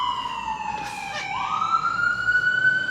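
A fire engine siren wails nearby, its pitch sliding down and then holding a steady high tone over a continuous background rumble.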